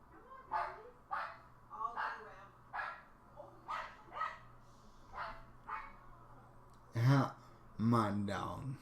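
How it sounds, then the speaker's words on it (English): A dog barks in a series of short, sharp yaps roughly every half second, fairly close, ending in two louder barks, with a voice talking faintly over them. "My dog is barking."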